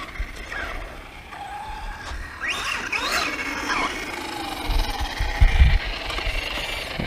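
FS Racing 53810 brushless 4WD RC truck running on a 3S lipo at about three-quarter throttle, its motor whine sweeping up and down in pitch with mechanical whir and gravelly rolling noise, close and fairly loud.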